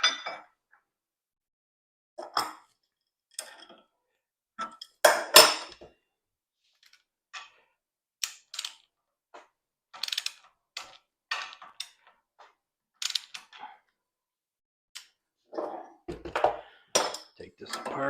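Metal parts of a connecting rod vise clink and tap during disassembly on a Big Block Chevy engine build, a string of short, sparse, close clicks and knocks with quiet gaps between them.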